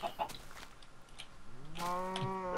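A single drawn-out cow moo rises near the end in a Minecraft-style game, preceded by faint clucks and bits of quiet game noise.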